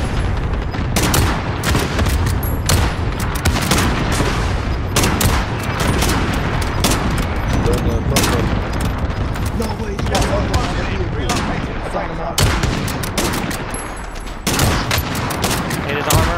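Rapid bursts of gunfire in the video game Warzone crack repeatedly, loud and close, with scattered single shots and sustained volleys throughout.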